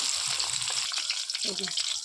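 Steady sizzle of fish frying in oil crackles throughout, with bursts of low clattering and a brief mid-range sound near the end.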